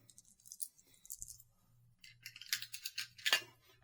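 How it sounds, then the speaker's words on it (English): Blue dice rattle and clatter as they are shaken and mixed for a tabletop wargame, light clicking bursts that are quiet and close, with no talk. "Mixing some blue dice."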